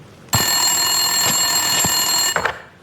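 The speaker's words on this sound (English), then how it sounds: "Winterson's phone was ringing." A telephone on an office desk rings in the video game Max Payne 2, a loud, continuous electronic trill that starts abruptly, holds for about two seconds, then cuts off.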